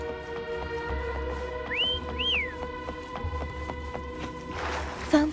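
A two-note rising whistle in the game Wuthering Waves, brief and clear, sounds over a steady electronic game soundtrack with a low hum underneath.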